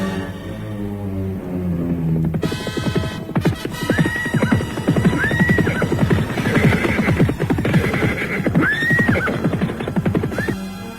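Several horses neigh and whinny loudly in repeated calls over the steady clip-clop of hooves from a passing column of riders, close and busy, with no talking.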